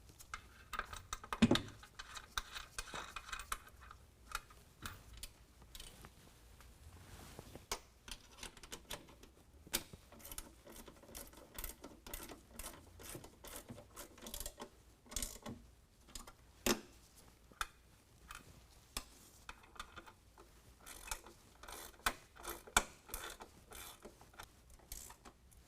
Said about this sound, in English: then we'll tighten them down with a 13 millimeter